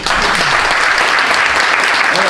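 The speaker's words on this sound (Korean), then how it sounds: "일단 박수 좀 한번 쳐드려요" A church congregation at a March First commemorative service claps together in a brief, loud burst of applause, close and full, with a few voices mixed in.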